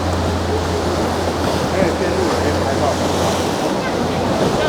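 Rushing sea water churns around the Naruto whirlpools in Tokushima, a loud, steady roar of surging current and wind buffeting the microphone throughout, with no clear voices.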